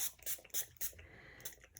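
Several quick hissing sprays from a pump bottle misting a watercolor palette, close and quiet, spaced irregularly with short gaps between squirts.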